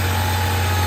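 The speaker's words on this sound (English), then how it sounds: "Engine is back together and running." A rebuilt 1974 Porsche 911S engine idles with a steady low hum and even vibration, close by and unchanging.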